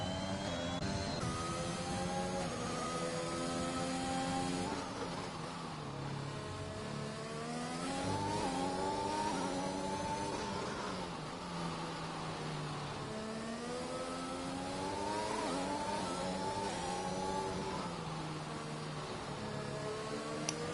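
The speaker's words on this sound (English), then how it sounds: "As we see Sven coming around the last bend and doesn't improve on their time" Race car engines in an F1 racing video game at the Hungary circuit whine and rise as cars accelerate and shift, steady high-pitched engine drone over twenty seconds, no speech.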